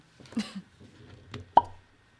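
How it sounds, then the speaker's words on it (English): A small cork pops from a 2019 Stagg Jr. bourbon bottle, batch 12 at 132.3 proof, making one short, soft, close pop after some quiet rustling and handling. "That was the cutest little cork pop I ever heard"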